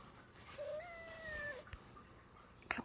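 A house cat gives one drawn-out, fairly quiet meow close by in a calm indoor room, followed by a few faint clicks and rustles.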